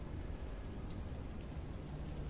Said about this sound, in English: Oh, you can hear the rain.